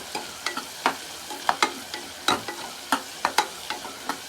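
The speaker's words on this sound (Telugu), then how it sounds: "ఉల్లిపాయ అనేది బాగా కలర్ రావాలండి, అప్పుడు దాకా మనం కుక్ చేసుకుందాం" Two large sliced onions frying in a pan for a mutton drumstick curry, with a steady soft sizzle punctuated by regular sharp scrapes and taps of a spatula stirring, close and without talk.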